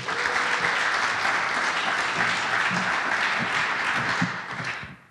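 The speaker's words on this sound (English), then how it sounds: "so give her a round of applause" An audience at a PechaKucha event in a science center applauds in a dense, steady wash of clapping that holds loud for about four seconds, then fades away quickly at the end.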